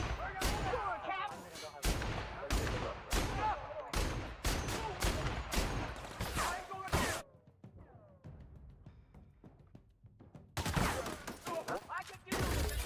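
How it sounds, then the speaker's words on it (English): Rapid bursts of gunfire in a battle in The Outer Worlds, loud dense volleys repeating for several seconds, a quieter lull, then another heavy barrage resuming. "Incoming! Open fire!"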